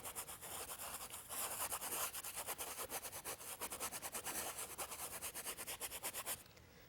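A paintbrush scrubs paint onto canvas for a snow scene, producing a faint, close, rhythmic brushing and rasping in quick repeated strokes with no talk.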